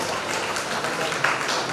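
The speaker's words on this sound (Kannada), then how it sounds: "ಜೋರಾಗಿ ಚಪ್ಪಾಳೆಯಿಂದ ನಿಮ್ಮ ಸ್ವಾಗತ ಮಾಡೋಣ" Applause from an audience welcoming guests onto the stage at a school annual day, a steady crowd clapping that fills the whole moment at close range.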